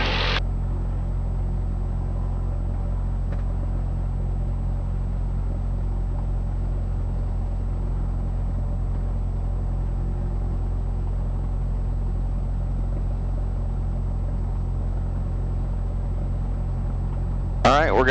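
A Cessna Skyhawk's engine idles with a steady low drone and rumble while taxiing, continuous and close, as if heard from inside the cabin, with brief voice bursts at the edges.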